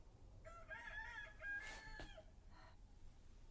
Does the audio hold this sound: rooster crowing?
yes